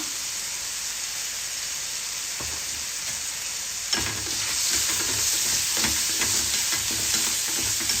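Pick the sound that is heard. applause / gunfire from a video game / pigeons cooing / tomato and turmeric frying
tomato and turmeric frying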